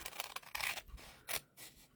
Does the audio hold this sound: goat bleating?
no